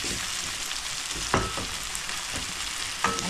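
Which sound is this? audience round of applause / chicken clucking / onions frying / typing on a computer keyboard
onions frying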